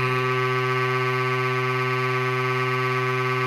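An Inkclaw mini tattoo pen machine runs with a steady, continuous electric hum and whine, a constant buzzing tone heard up close with no break.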